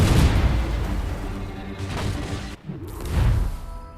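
Ship cannons firing in a naval battle in Assassin's Creed Rogue, heavy booming blasts that roll into a rumbling roar, then a second deep boom swelling near the end, with no talking.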